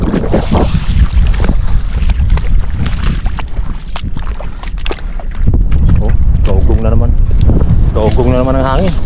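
Strong northeast monsoon wind buffets the microphone throughout near a mangrove, with sea and boat noise beneath and voices talking over it.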